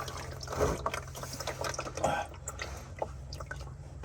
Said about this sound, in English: catch the rest of the oil coming out of the filter